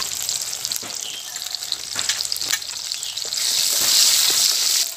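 Eggplant frying in hot oil with salt and turmeric, a loud close sizzle with several scraping stirs early on, swelling into a bright, steady hiss toward the end, no speech.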